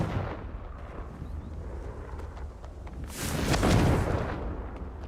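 A Confringo blasting spell explodes in Hogwarts Legacy, a sudden loud burst swelling over a low rumbling background about midway and fading over a second or so.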